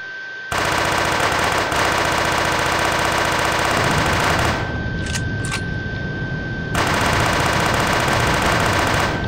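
A Halo assault rifle in the video game Guncraft fires in long, loud, rapid automatic bursts, stopping briefly in the middle before the fire resumes.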